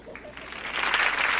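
Studio audience at a television talk show taping breaks into applause on cue from an applause sign, clapping building from sparse to a dense, steady wash within about a second.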